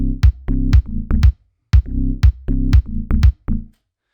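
In Ableton, a high bass layered over a sub bass drives a repeating pattern, with sharp kick drum hits punctuating each phrase. The mix is loud and close, and no voices are heard.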